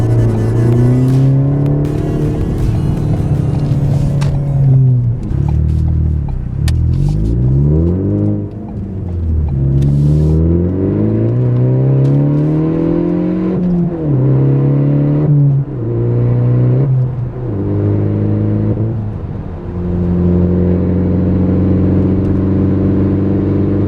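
A car running on STP Octane Booster drives and accelerates hard. The engine revs climb and drop repeatedly through gear changes, loud and close, with a steady rumble and no talking.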